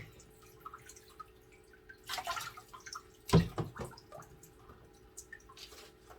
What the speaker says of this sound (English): I'm just going to drizzle her with the fresh water.